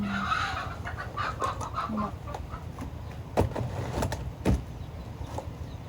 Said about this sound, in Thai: ตอนนี้ไก่เขาตีกันแล้วทุกคนมันอยากกินข้าว